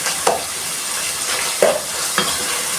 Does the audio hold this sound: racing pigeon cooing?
no